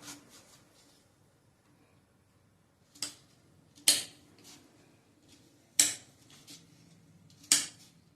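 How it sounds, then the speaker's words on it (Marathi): A knife cuts raw mango into pieces on a board in a quiet kitchen, giving four or five sharp, separate chops spaced about a second apart, close and fairly loud against near silence. "या कैरीच्या आता मी फोडी करून घेणार आहे"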